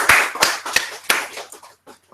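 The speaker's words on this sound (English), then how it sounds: "So clap for yourself." A few people clap at a teachers' life-skills coaching session, sparse and uneven hand claps with gaps between them, fading out near the end, no voices over them.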